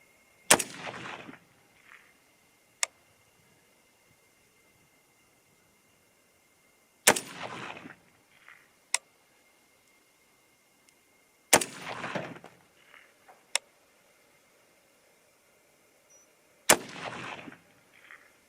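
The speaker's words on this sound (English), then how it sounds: "I'm going to shoot this like you would shoot it if you was hunting. A little bit more rapid than the bolt action." An AR-10 semi-automatic rifle fires four loud, sharp shots at a hunting pace, each followed by a rolling outdoor echo. The shots are spaced roughly five seconds apart with quiet between them.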